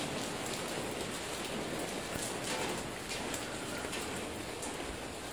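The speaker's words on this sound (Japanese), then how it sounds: "あいにくの雨で無理なんですよね。" Steady rain falls throughout on a walk through the hillside town of Jiufen, Taiwan, a dense continuous patter of drops hitting surfaces nearby, with no voices.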